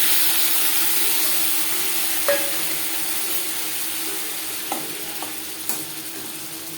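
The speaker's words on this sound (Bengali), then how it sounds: "সবার প্রথমে আমি মাছের তেল মেল্ট করে নেব।" Bhetki fish fat melting in a hot pan, a steady loud hiss of sizzling oil that slowly eases, with a few light spatula taps against the pan, close up and without speech.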